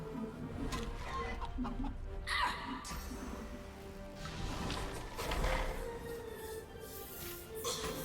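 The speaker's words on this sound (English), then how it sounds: "Turn Salaman into a chicken." A character turned into a chicken in Divinity Original Sin 2 clucks and squawks in short bursts, mixed with game combat effects and background music, moderately loud with no talk over it.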